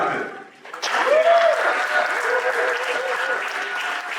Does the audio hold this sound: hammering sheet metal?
no